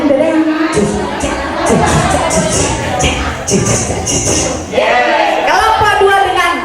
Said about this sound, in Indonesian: Kelompok 2 dengan yel-yelnya yang menggetarkan gedung